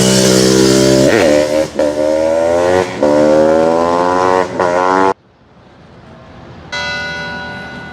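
A 2023 Honda CR500 two-stroke motorcycle engine revs loudly up close, rising and falling through several throttle blips, then drops to a quiet idle before revving again.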